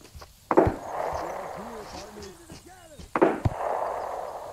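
Two sharp, close gunshots ring out in a Tarkov-style survival first-person shooter, each followed by a hissing, echoing tail, while someone speaks French between the shots.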